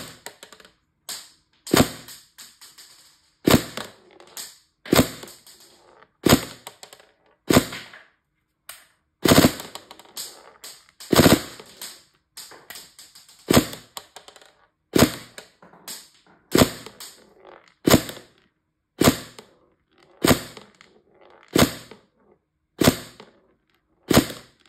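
A Tokyo Marui MP5SD6 airsoft gun fires 0.25 gram BBs in sharp single shots, about two dozen crisp snaps spaced irregularly over near silence, loud and close.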